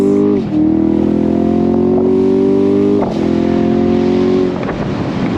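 A 2021 Chevy Camaro Shock & Steel Edition V8 pulls hard on throttle from inside the cabin, its loud engine note climbing steadily through two long gear pulls with brief drops at each shift.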